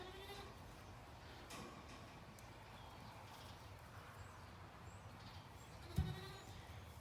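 Sheep and young lambs in a barn, a soft bleat or two faintly under steady background noise, with a brief louder thump near the end.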